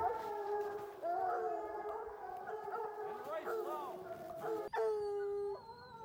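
Hunting dogs bay on a mountain lion trail in a long, wavering chorus of howls that runs almost without a break, pausing once briefly before a loud, sustained cry rises again.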